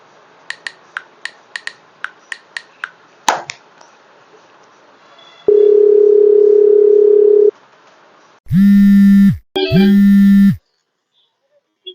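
Phone call sounds come in sequence: a row of quick keypad beeps, a long steady dial tone, then two bursts of ringback tone with a short gap between them, loud and close, with no one speaking.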